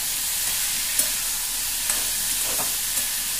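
Pumpkin curry with added tomato cooking in a pan, a constant hissing sizzle with a few soft stirring clinks scattered throughout.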